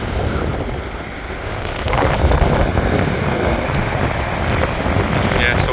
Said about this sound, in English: the sea's even picked up quite a bit now as well